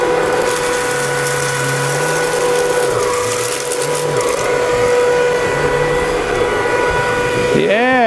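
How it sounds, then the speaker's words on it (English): A Comfyer Cyclone cordless vacuum cleaner runs loud and close, its motor a steady high whine whose pitch wavers slightly, with talk mixed in. "Good thing I have a Comfyer vacuum cleaner to clean it up"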